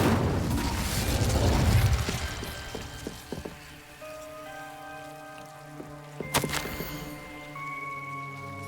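A fire spell cast in Hogwarts Legacy gives a crackling, burst-like whoosh that settles into sustained tonal magical hums and chimes, with a sharp bright flare near the end, and no talking.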